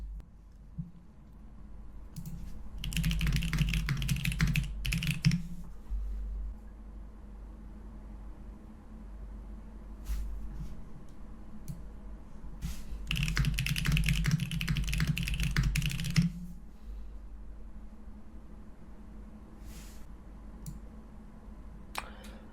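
Typing on a computer keyboard comes in two dense bursts of fast clicking keys separated by quieter stretches with a few isolated taps, all over a faint steady room hiss.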